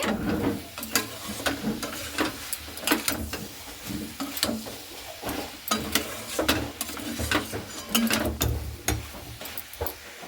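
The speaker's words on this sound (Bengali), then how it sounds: "এরপরে ভেজে রাখা আলুটা দিয়েও খুব ভালো করে এইভাবে আমি নাড়াচাড়া করে নিচ্ছি" Soybean curry with fried potatoes is stirred in a pan over steady frying, with a continuous close sizzle and repeated scraping spatula strokes in an irregular rhythm.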